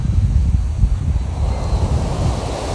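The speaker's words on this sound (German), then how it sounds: "Die Wellen sind so stark, da soll man natürlich nicht schwimmen." Strong surf on Bang Tao Beach in Phuket, a loud continuous roar of breaking waves with heavy wind buffeting the microphone and no voices.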